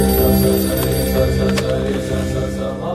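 Telephone ringing indoors with a sustained, fairly loud electronic tone that continues evenly across the moment, with a faint voice in the background.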